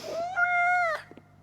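A cat meows inside the video game Life Is Strange Double Exposure. One clear, drawn-out meow sounds close and loud, rising in pitch and holding steady. A faint low hum sits underneath, and a small soft tail follows after it.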